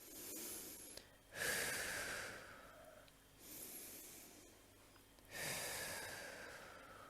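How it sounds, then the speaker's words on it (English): Slow, deep breathing rolls in and out like a wave: three long airy inhales or exhales swell and fade at a calm, even pace, close and breathy, with no words spoken. "imagine just breathing like this, like a wave"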